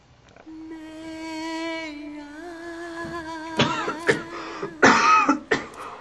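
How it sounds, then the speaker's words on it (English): A sustained tone gives way to a few harsh, close coughs, sharp bursts spaced unevenly near the end, in the video game Metal Gear Solid. "Get that cough looked at."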